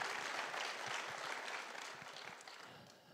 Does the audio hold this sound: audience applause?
yes